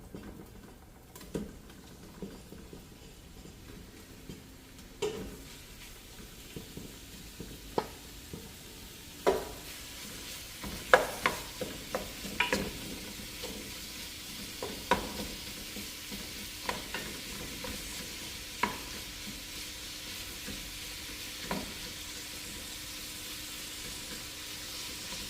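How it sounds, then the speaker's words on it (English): Beef tips searing with onions in a hot pan, a steady sizzle broken by scattered sharp pops and scraping stirs at close range, with no voices. "I'll turn this fire back up. I'm about to add this meat to it."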